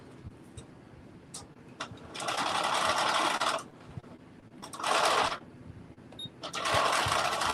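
A sewing machine back-stitches fabric for a bucket hat in three short runs, separated by soft clicks and fabric handling, close and moderately quiet.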